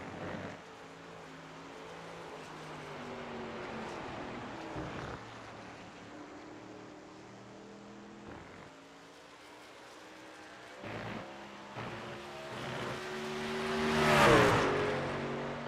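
Race trucks in the iRacing Truck Series at Watkins Glen, a steady hum of engines with harmonic tones, one truck growing louder toward the end as it passes close.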